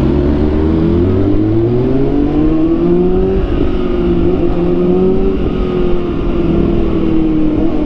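A big bike's engine drones loudly and close, its pitch rising and falling through a couple of revs over a steady rumble, with no talking.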